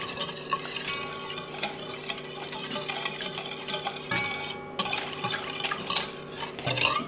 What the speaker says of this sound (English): now we're going to add in our packet of cheesecake instant pudding. Alrighty, I'm going to go ahead and mix that up.